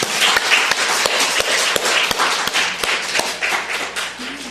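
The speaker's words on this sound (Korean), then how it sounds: "우리 가장들을 위해서 격려의 박수 한번 보내주세요." A church congregation applauds during a sermon, a dense, loud wash of clapping with sharp individual claps standing out, sustained throughout and close by.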